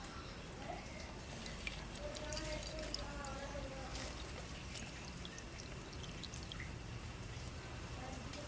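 A mix of paint and thinner is poured through a cloth filter for a homemade spray paint machine, giving a faint, continuous trickle and occasional drips, steady throughout and close by.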